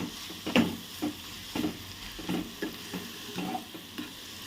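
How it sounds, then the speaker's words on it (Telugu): A cabbage, carrot and onion stir-fry is mixed in a hot pan. A spatula scrapes and tosses the vegetables in repeated rhythmic strokes over a continuous close sizzle, with no talking. "క్యాబేజీ వేసేసుకొని పూర్తిగా కలిపేసి"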